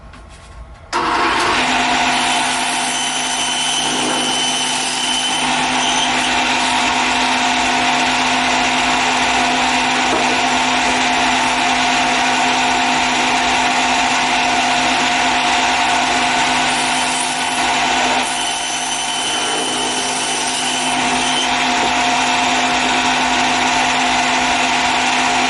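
A power saw running against a rip fence slices through foam insulation, its motor droning loud and steady for the whole stretch with only slight dips in pitch and no voices.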